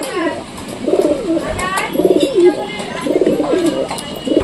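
Young pigeons being let out cooing in repeated soft, throaty rolling phrases, about four in a steady rhythm, close by over a low background hiss.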